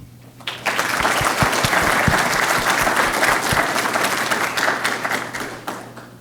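An audience at a Lamar University symposium applauding to welcome Senator Robert Nichols, starting abruptly into a full, sustained round of clapping from many people that fades slightly toward the end.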